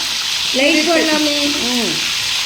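Mutton keema vada frying in a pan, a close, steady sizzle of oil under a brief run of tonal, whistling bubbling in the middle.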